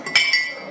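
A glass cup gives a single bright clink, followed by a faint ringing tail, as a solution is poured into a glass of water, close and quiet.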